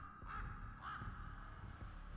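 Two harsh, rasping caws from a crow ring out close together in the psychological horror video game Rise of Insanity, set over a steady, faint, low ambient drone.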